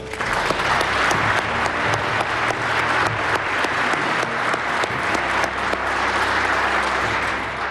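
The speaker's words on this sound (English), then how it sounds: "How about another round of applause?" Sustained audience applause at a police award ceremony, a steady, even crackle of many hands clapping throughout, moderately loud and filling the room without voices.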